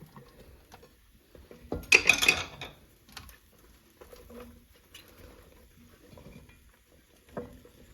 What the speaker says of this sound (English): now we're gonna add our vegetables. You can essentially just chuck everything in